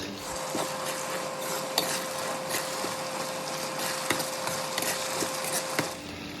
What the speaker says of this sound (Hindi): इसको हम ऐड कर लेंगे टमाटर में और अच्छी तरीके से इसको भी हम फ्राई कर लेंगे टमाटर के साथ।